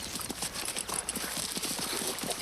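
Horse hooves clop in a steady, uneven rhythm on hard ground, fairly quiet and a little distant, with faint background noise.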